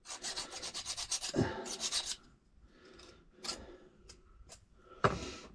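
A hand file rasps a burr off a freshly cut key for a seven-level safe lock, in a quick run of short close strokes followed by a few separate scrapes with quiet gaps between.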